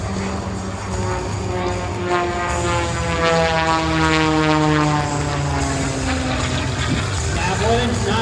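MXS aerobatic propeller plane performing a roll at an airshow at Tyndall AFB: a droning, buzzing engine and propeller note sweeps down in pitch as the plane passes, with an announcer talking over it.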